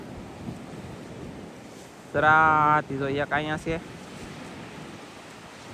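Strong wind roars over stormy sea waves in a steady rushing wash, while a person speaks briefly over it partway through.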